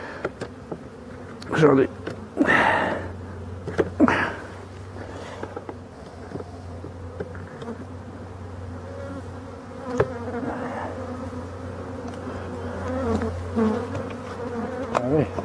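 Agitated honeybees buzz in a steady, dense drone at an opened beehive, loud and close throughout, with a few louder passes near the listener and a brief spoken word early on.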